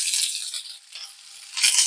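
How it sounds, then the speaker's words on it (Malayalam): Chopped shallots hiss and sizzle as they hit hot oil in a home-cooked potato stir-fry, with a steady close frying hiss that swells again near the end. No voices. "ഇനി അതിലേക്ക് അരിഞ്ഞു വെച്ച ചെറിയുള്ളി,"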